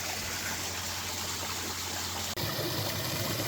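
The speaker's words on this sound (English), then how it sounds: "a lovely water feature all the way down the drive" Water drained from a pond runs steadily down a driveway, a continuous broadband trickling and gushing flow heard close and alone, with a brief dropout partway through.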